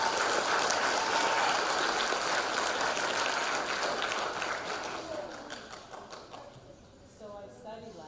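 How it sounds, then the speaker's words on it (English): Audience applause at an intermediate spelling bee in Peru, a dense, loud burst of many hands clapping that holds steady for several seconds before thinning out and fading toward the end. "So let's give her a round of applause."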